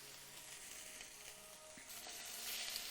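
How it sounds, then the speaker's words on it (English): Faint, steady sizzling of a sous vide steak searing in a hot pan, a continuous crackling hiss with no voices. "so beautiful sizzle"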